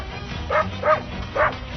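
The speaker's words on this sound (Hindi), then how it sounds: "अब उस पेड़ पर अपने पंजे मारकर बेहद ऊंची आवाज में भौंकने लगा था" A dog jumps at a tree, pawing it and barking loudly: three close, sharp barks in quick succession over a low steady background noise.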